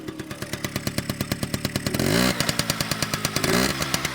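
A 1980 Yamaha Towny scooter's small two-stroke engine, kick-started, putters in a quick, even rhythm, briefly revving louder twice before dropping back to a steady idle.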